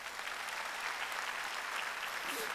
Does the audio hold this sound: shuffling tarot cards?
no